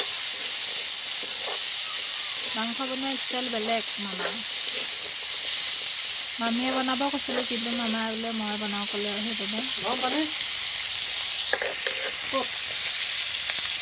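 Chopped kohlrabi fries in hot oil with a steady, close hiss and sizzle that runs unbroken while a person talks over it in short stretches.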